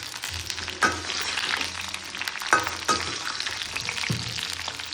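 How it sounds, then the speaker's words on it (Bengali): Lentil badis stir-fry in oil with panch phoron, giving a continuous close sizzle broken by several scraping stirs and clanks of the spatula against the pan, with no voices. "এখন আমি এগুলোকে একটু বড়ইগুলোকে দিয়ে একটু নেড়ে ছেড়ে উঠিয়ে নেব"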